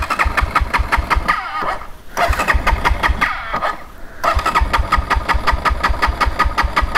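A motorcycle engine is cranked repeatedly but fails to catch, with rough sputtering bursts of turning over broken by two short pauses, loud and close with no talking.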